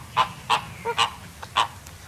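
Flamingos honk in the flamingo area of a garden, giving five or six short, nasal calls close by in an uneven rhythm with no talking.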